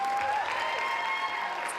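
Crowd at a Women's Equality Day event applauding, a brief, even burst of clapping at moderate level with a faint whistle tone riding over it.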